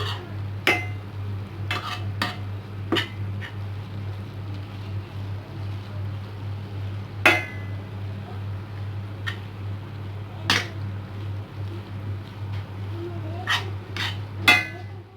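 Mutton keema with peas and potatoes being sautéd in a pan, heard as scattered sharp spatula clicks and scrapes against the metal over a constant low kitchen hum.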